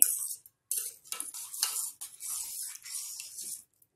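Rice is stirred around in a pot of water for cumin (jeera) rice, giving short bursts of wet scraping and sloshing with brief pauses between strokes.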